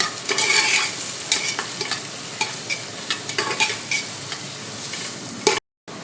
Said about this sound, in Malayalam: നമുക്ക് സവാള ഒന്ന് വഴറ്റി കൊടുക്കാം